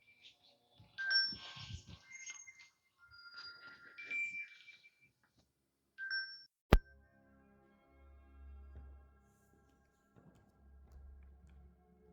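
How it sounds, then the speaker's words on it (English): A phone call comes through during a home yoga flow session, heard as soft, quiet electronic chime tones repeating in short bursts, followed by a sharp click and low rumbling. "If that phone call came through on the recording, apologies if it did."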